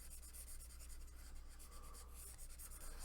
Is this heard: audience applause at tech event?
no